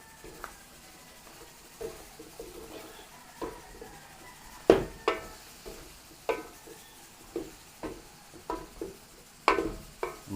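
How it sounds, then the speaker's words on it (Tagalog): Paluto being stirred in a pan for a Noche Buena meal, with a quiet low sizzle under repeated spoon knocks and scrapes against the pan at an irregular rhythm. "Haluin lang po natin."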